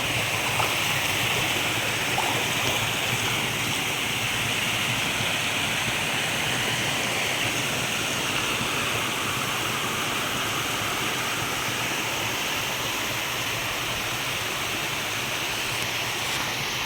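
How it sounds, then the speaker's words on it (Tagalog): Steady, full-bodied rush of a clear creek flowing continuously, close and fairly loud, with broadband water noise holding even throughout and no voices. "ilog po ito uh, sapa pero ganyan po sa kalinis"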